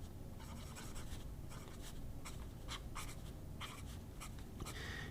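A broad-nib fountain pen writes on paper in quick, continuous scratchy strokes with short pauses between words, close and steady throughout.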